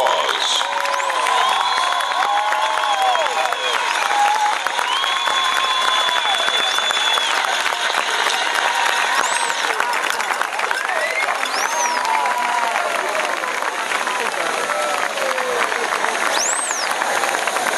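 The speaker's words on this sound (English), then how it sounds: "Please join us in giving our High Stepper alumni a big round of applause." Loud, sustained applause from a large audience for a high-stepping performance group's alumni fills the space, with scattered cheers and whoops rising above the clapping.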